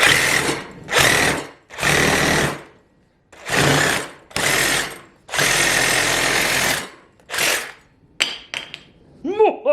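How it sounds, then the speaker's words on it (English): A Sawzall reciprocating saw cuts through a metal suspension bushing ring clamped to a table, heard as loud, close bursts of harsh buzzing with short pauses between them, followed by a few light metallic clinks and rings at the end. "I'm going to be using the Sawzall to cut through this metal ring right here."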